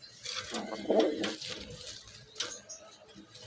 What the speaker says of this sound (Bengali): আর নরটা একটু পাগলা টাইপের ভিউয়ার্স, দেখতেই তো পারতেছেন, খুব ডাকাডাকি করতেছে